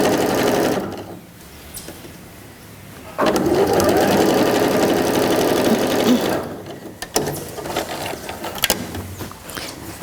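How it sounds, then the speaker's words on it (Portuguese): A sewing machine stitches quilt block pieces right sides together in long steady runs, pausing briefly, then buzzing on loud and close, followed by a few short bursts near the end. "Direito com direito. Costurando até o fim"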